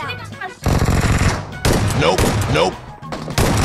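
Rapid automatic gunfire bursts in PUBG Mobile, loud and close, coming in several rattling volleys with short gaps, while a player speaks over the shooting.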